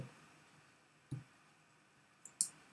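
A few isolated computer keyboard key clicks in a quiet room, one near the middle and a quick pair near the end, each sharp and brief.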